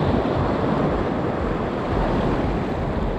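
Ocean waves break against a rocky shore on a Tobago beach with a steady, dense roar of surf and wind noise, loud and continuous throughout, with no voices.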